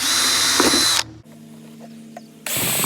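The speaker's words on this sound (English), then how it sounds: "I just go ahead and drill a hole." Power drill boring a hole near the top rim of a one-gallon plastic container for a self-wicking garden planter: a loud, steady whine for about a second, a quieter pause, then the drill revving up again, close and alone.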